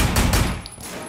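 A rapid, loud fusillade of gunshots fills a brief moment of a Sleeping Dogs shootout, with several close cracks in quick succession and no talk over them.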